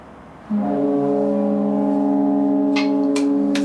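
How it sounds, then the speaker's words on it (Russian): A deep, loud foghorn blast starts after a brief quiet and holds steadily, with a few short sharp knocks sounding over it near the end. "Пошел гудок."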